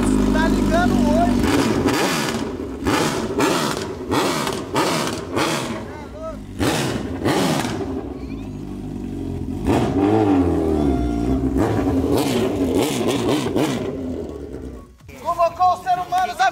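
A motorcycle engine revs repeatedly in rough bursts, rising and falling loudly up close, with a final quick series of throttle blips.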